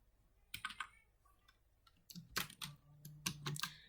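Java code being typed on a computer keyboard: quiet, irregular bursts of clicking keystrokes, with a few isolated taps followed by quicker clustered runs, close and alone without speech.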